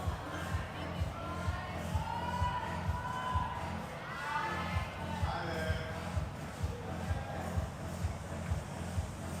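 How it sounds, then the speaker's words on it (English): Crowd roar filling a hall at the Philippine speed and lead climbing nationals, a steady dense wash of many voices with rising swells of cheering, continuous throughout under talk. "Crowd goes wild."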